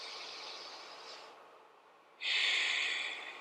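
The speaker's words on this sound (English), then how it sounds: "Take another deep breath here." A slow, soft breath drawn in and let out during a calm rest routine, followed by a louder, airy deep inhale close to the microphone.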